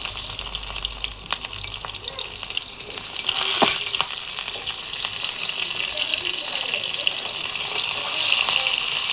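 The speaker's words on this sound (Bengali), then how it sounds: "ভালো করে ভেজে নিব। পেঁয়াজগুলো ভাজা হয়ে গেছে" Whole onions fry in hot oil in a pan, giving a loud, continuous close-up sizzle with scattered sharp crackles and pops.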